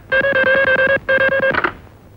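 A telephone rings in two loud, close bursts of rapidly trembling electronic bell tone, with a brief pause between them, then fades into quiet.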